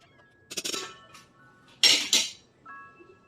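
A spoon clinks against a cooking pot while chicken tinola is stirred, two short bursts of metallic scraping and clinking separated by quiet, close and fairly loud.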